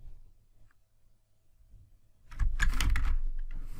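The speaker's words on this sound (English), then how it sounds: "So I got that edit document thing by just typing on the keyboard." Keys clatter on a computer keyboard in a burst of close, rapid typing after a quiet stretch with faint low room hum.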